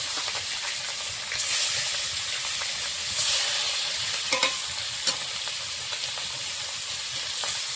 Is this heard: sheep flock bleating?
no